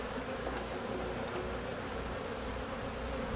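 Swarming bees fill a wood shop with a steady, dense buzz that holds an even level throughout, a low drone with no voices present.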